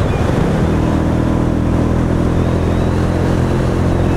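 Royal Enfield Meteor 350 motorcycle on the move, a steady low engine thrum mixed with heavy wind rush, loud and continuous from the rider's position.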